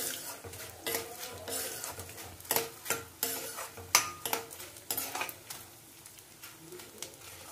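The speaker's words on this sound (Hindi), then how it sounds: "मैं इसे धीमी आंच पर ही भून रही हूँ, तभी ये अच्छा होगा।" Dry fruits roasting in a pan over a low flame for mewa paak, stirred with a spoon that scrapes and clinks against the metal in an irregular run of close, sharp strokes, with a faint sizzle beneath.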